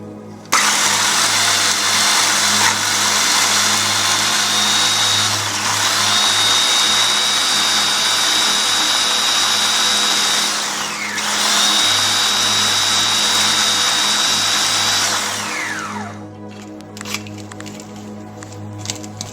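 Blender whirring through Thai curry paste for a shiso salad, loud and steady for about fifteen seconds with pitch shifts as the load changes, then winding down to quiet rattles.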